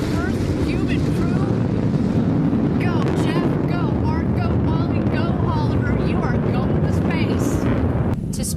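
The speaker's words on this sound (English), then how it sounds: "Beautiful burn on that BE-3 engine." The liquid hydrogen-fuelled BE-3 engine of Blue Origin's New Shepard rocket burns during launch in the West Texas desert, a continuous broad roar heard under live commentary.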